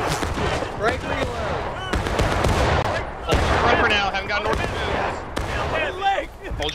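Musket volleys and scattered rifle shots crack repeatedly in the Civil War video game War of Rights at Burnside Bridge, loud and close with overlapping distant fire, while several voices shout over the battle.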